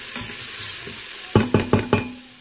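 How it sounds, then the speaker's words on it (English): Thyme stirred with mushrooms in an Instant Pot: a quiet stretch, then four quick, firm scraping strokes in steady rhythm against the pot. "Just stir that around for a second to release the natural oils that are in the herb."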